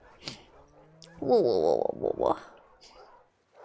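An older dog in the video game The Last of Us Part II whimpers and whines in a short rising, wavering cry, close and clear, with a man's brief exclamation just before.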